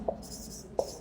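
Marker strokes on a classroom board as names are written, two short scratchy squeaks close by with brief quiet between them.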